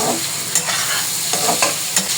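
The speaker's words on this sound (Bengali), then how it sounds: "এটাকে নেড়ে ছেড়ে ভাজি করে নিচ্ছি" Cabbage stir-fries in oil with a close, steady sizzle, punctuated by quick rhythmic scrapes and taps of a spatula against the pan.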